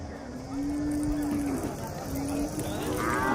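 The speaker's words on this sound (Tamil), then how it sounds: "அப்படியே நாட்டு மாடு பார்த்துருவோம் ஒரு ரவுண்டு மாவட்ட மாட பார்த்துட்டு" Cattle moo steadily at the Chintamani cattle market in Karnataka, with one long, drawn-out low call followed by a shorter second call, heard close over a constant crowded market hubbub.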